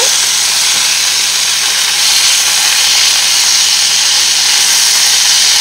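Sausages frying in a pan on the stove, a steady close sizzle and hiss that runs evenly throughout with no talk.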